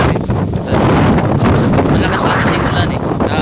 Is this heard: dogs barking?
no